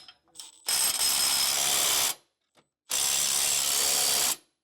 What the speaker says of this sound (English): We'll tighten these down with a 19 millimeter or 3/4 and a wrench on the nut side.